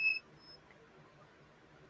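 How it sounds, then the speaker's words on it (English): A small electronic device with an LED light gives a short, thin beep, then a fainter second one, against a quiet background. "Well, beeped twice."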